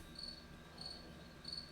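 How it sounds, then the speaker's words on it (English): A single cricket chirps quietly in the background, three evenly spaced short trills over a low room hum. "As we hear the cricket in the background."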